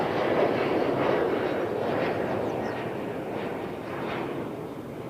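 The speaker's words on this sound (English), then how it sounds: "Royal Air Morocco Embraer" A Royal Air Maroc Embraer jet at London Heathrow gives a steady, loud broadband engine roar that holds for several seconds and eases slightly toward the end, with no voices over it.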